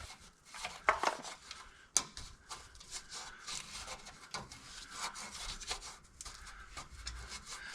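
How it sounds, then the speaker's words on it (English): Degraded foam debris crumbles and falls from inside a rusty old truck, producing a soft, continuous rustling and scraping with a few sharper knocks near the start, fairly quiet throughout. "That's all foam coming down."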